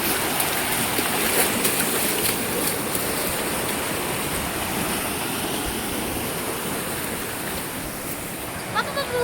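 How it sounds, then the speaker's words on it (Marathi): Steady, loud rush of floodwater after a cloudburst flowing over a farm road fills the whole stretch, a continuous broadband roar like a torrent running over ground. "शेतात जायचा रस्ता आहे याला पहा किती पाणी आहे"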